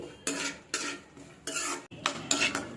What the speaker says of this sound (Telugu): ఇప్పుడు కొబ్బరి పలుకులు వేయించుకుందాం.